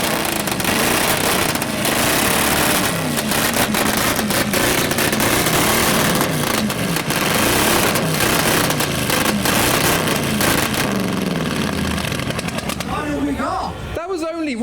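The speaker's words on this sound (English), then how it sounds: "Even the start-up's going to be loud with those stacked exhausts." A car with stacked exhausts at a rev battle fires up and revs hard, a loud, crackling, popping roar that stays constant throughout, with crowd voices mixed underneath.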